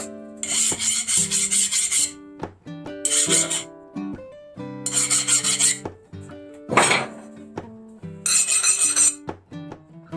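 A hand file rasps across a hardened steel piece and an annealed file in alternating strokes, harsh bright scraping bursts with ringing metallic tones between them, close and with no talk.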